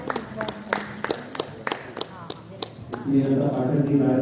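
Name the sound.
audience applause welcoming a guest at award ceremony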